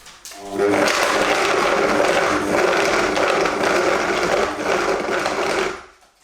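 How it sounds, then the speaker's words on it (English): A blender on its lowest speed works through frozen protein ice cream, starting abruptly into a loud, steady grinding whir with rough mechanical rattle, running several seconds close up before cutting off. "just put the blender on really slowly because it is frozen"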